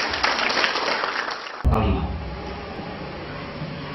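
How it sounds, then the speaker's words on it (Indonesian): Audience applause for a woman named Carmila at a motivational seminar for Diniyyah Al Azhar teachers, a dense broadband patter that shifts abruptly partway through into a fuller, steadier crowd sound. "Tepuk tangan buat Ibu Carmila"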